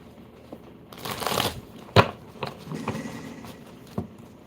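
A deck of tarot cards is shuffled nearby in short bursts: a papery riffle followed by a few quick taps and snaps of the cards, set against quiet background.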